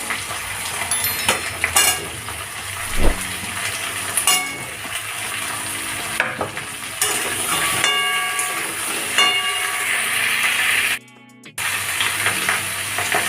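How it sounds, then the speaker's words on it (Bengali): Potato, pointed gourd, brinjal and tomato frying in a pan give a steady, close sizzling hiss with occasional crackles and stirring clatter, briefly dropping out near the end. "এবার আমি এগুলো ভালো করে ভেজে নেব, আরও ভালো করে ভেজে নেব।"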